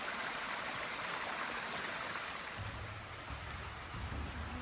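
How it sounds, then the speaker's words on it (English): Steady broadband rush of a waterfall beside a walking path at Lonar Lake, a continuous wash of falling water close by with no voices. "The sound of a waterfall along the path reminds you of being in nature"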